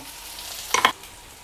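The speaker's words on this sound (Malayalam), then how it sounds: "എല്ലാം കൂടി ചേർത്തിട്ട് നന്നായിട്ടൊന്ന് വഴറ്റി കൊടുക്കാം" Onions and crushed chili are sautéed in a pan, a soft sizzle broken by a brief double scrape of stirring, heard close with no talking.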